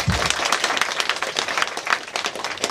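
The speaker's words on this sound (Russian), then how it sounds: "Но давайте ему подарим аплодисменты" An audience applauds at a 2019 album presentation concert for a singer, honouring a songwriter; dense, steady clapping from a crowd fills the space evenly without a break.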